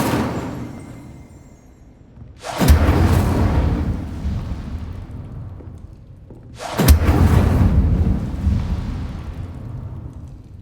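Incendio fire spell cast in Hogwarts Legacy: two loud whooshing bursts of flame a few seconds apart, each erupting with a deep thump and roar before fading away.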